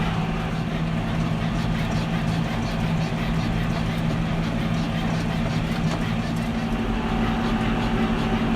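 Tractor engine running steadily while spreading fertilizer in a field, a constant droning hum with steady low tones and rough-ride rattle, unbroken throughout and close to the microphone.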